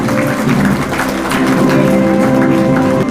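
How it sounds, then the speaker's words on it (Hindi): Crowd applause at the mascot unveiling for the Women's Asian Champions Trophy 2023 hockey opening in Ranchi, a steady dense patter of clapping held for about three seconds over a sustained musical tone. "तालियां बजती रहनी चाहिए।"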